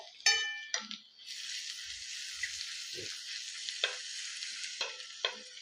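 Butter with Kashmiri red chili powder and masala sizzles in a pan for butter egg masala pav, a steady close frying hiss broken by several clinks and scrapes of a stirring utensil.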